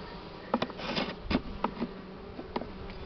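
Bees buzz around an open beehive while the hive is worked on, with a faint hum and a series of sharp knocks and taps scattered through a few seconds, fairly quiet and close.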